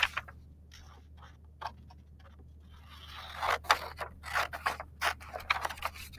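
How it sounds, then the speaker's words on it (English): Scissors cut through a folded paper journal page, starting with sparse snips and scrapes, then turning into denser, louder crisp cutting strokes near the end, close and alone. "and I'm going to cut it in half"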